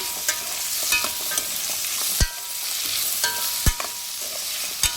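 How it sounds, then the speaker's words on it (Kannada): Beans and carrot stir-fried in a pan while paneer masala gravy is being made, with steady bright sizzling and several sharp scraping knocks of a spoon against the pan, close and alone. "ಒಂದು ಐದಾರು ಬೀನ್ಸು ಸೊ ಇದನ್ನು ಹಾಕಿಬಿಟ್ಟು ಫ್ರೈ ಮಾಡ್ಕೊಳ್ಳಿ"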